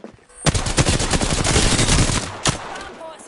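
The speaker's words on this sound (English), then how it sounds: "Bots are shooting at me." Bots firing guns in the video game Apex Legends, with rapid, close automatic bursts of crackling shots running continuously and one sharp loud report standing out near the end.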